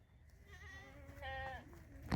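A single goat bleats nearby, a wavering cry lasting about a second, followed by a brief sharp knock.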